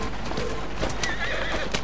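Horse in Assassin's Creed Syndicate neighing and whinnying over steady clip-clop hooves at a gallop, loud and close, with constant game rumble underneath.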